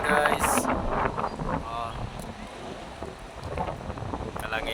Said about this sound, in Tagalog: lakas na naman yung hangin guys